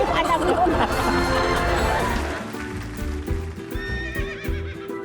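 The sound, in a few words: horses neighing and hooves clip-clopping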